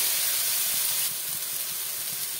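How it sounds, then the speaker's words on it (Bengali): Pre-fried cauliflower and potato go into hot spiced oil, and a steady, loud hiss and sizzle fills the pan without pause. "এবার দেবো ভেজে রাখা ফুলকপি আলুটা"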